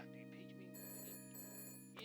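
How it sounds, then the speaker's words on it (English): A telephone rings in the video game Shadows of Doubt with a steady, continuous electronic ring that stays faint and even, then cuts off near the end. "And that's when I got a phone call."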